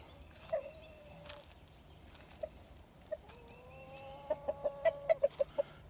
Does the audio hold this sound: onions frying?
no